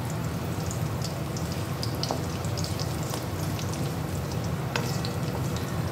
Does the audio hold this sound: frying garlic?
yes